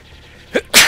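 A single human sneeze, close and loud: a short sharp intake followed by an explosive burst of breath, alone without talk.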